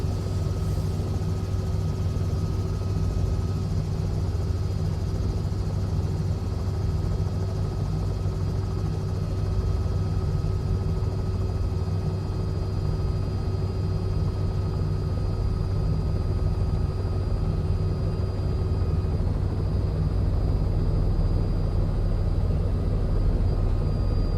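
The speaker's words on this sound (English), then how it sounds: "Here comes the fun part of flying a helicopter." A Robinson R66 helicopter in a flight simulator, touring the IWM Duxford airfield, produces a steady, loud rotor and turbine drone with a constant low throb and a sustained whine throughout, with no talk.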